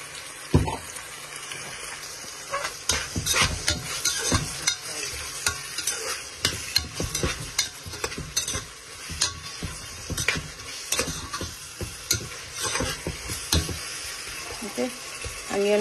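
Spices stir-fried in a pan for a bean-seed dal, with a spoon repeatedly scraping and clattering against the pan over a steady background sizzle.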